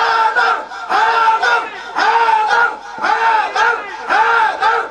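A large crowd chants slogans in a steady, repeating rhythm, loud and unified, with call-and-response swells.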